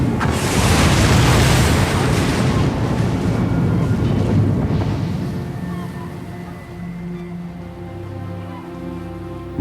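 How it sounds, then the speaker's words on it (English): Explosion sound effect depicting the Swissair Flight 111 crash off Peggy's Cove: a loud, deep, rumbling blast that swells at once, then slowly fades over several seconds. "residents of Peggy's Cove heard a devastating explosion"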